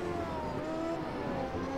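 A Formula-style open-wheel racing car in the sim game Automobilista 2, lapping Monaco, holds a steady high engine drone with a faint whine and no talk.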